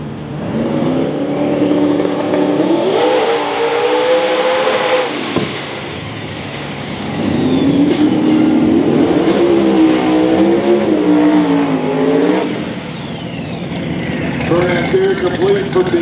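1992 Ford Mustang with a 427 cubic inch LS engine at a no-prep drag racing event, revving in surges, dropping briefly, then roaring loud with wavering pitch while voices talk over it.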